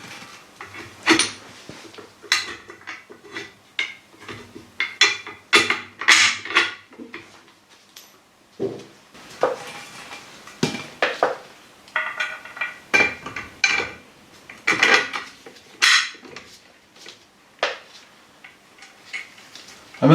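Metal car suspension bolts and nuts from a Daihatsu Charade rear suspension clink and tick repeatedly as they are handled and laid out, a steady run of close, bright little knocks.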